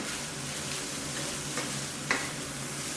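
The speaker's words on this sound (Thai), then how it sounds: "จากนั้นผัดคลุกเคล้ารอจนกว่า ต้นหอมผักชีโดนความร้อนจนสุกนะครับ" Pork fried rice with spring onion and coriander is stir-fried in a hot pan, making a continuous close sizzle with soft stirring scrapes and a brief utensil clink near the end.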